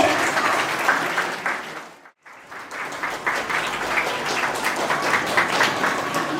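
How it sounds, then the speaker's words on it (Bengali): Audience applause at a scholarship ceremony in the Sundarbans, steady dense clapping from a large crowd that cuts out briefly at about two seconds, then resumes just as full and even to the end. "বন্ধুদের জন্য বারবার হাততালি চাইতে হবে।"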